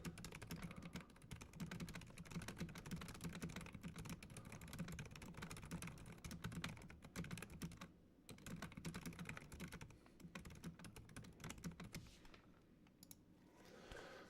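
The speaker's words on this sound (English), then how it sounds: "I just did 145 words per minute in their little typing challenge" Rapid typing on a computer keyboard during a typing race, a dense, fast clatter of keystrokes running almost nonstop, quiet and close, with a brief pause near the middle.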